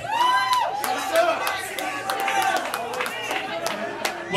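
Wrestling event crowd cheering and whistling, a dense mix of shouts, whoops and scattered clapping filling the hall throughout.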